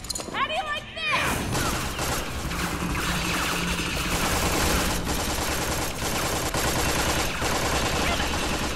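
Rapid, dense gunfire and explosive bursts from the video game Tales From The Borderlands fill the scene after a short opening with a voice, continuing loud and sustained with shots and impacts layered over game music.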